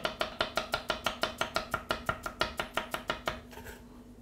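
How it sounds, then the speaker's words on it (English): A knife chops a leek on a cutting board in a fast, even run of about twenty sharp close taps, then stops; no talking. "I'm going to cut the leek down the middle, reach in, grab the little tough bit in the center"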